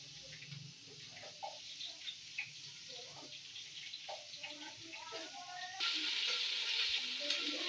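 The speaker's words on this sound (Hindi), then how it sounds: "इसको हम काट के इसमें तड़के में ही ऐड करेंगे।" Cumin seeds and chopped green chillies sizzle in hot tempering oil for a cumin rice pulao, a steady close frying hiss with scattered pops and crackles that grows brighter and louder near the end.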